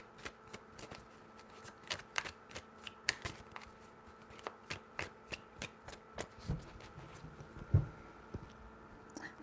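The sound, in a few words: shuffling tarot cards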